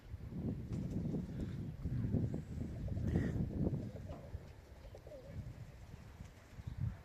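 Young autumn pigeons on a rooftop cooing in soft, low, repeated bursts, fairly close and quiet against faint background noise.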